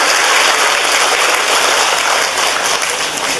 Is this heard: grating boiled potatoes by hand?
no